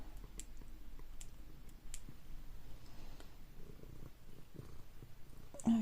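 A cat named Mono purrs close by in a steady low rumble while someone makes resin constellation keyrings, with scattered light clicks and taps of crafting handling over it.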